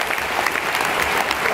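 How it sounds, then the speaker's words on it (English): An audience at a talk about space travel breaks into steady, dense applause, a continuous wash of many hands clapping together at full volume with no voices over it. "Let's give a round of applause for that"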